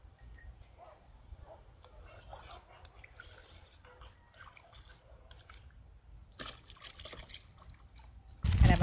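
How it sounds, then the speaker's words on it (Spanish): Water trickles and dribbles steadily as it is poured into homemade rice horchata, a soft, continuous liquid sound with faint clinks, ending in a sudden louder splash or clatter. "Vamos a echarle el agüita"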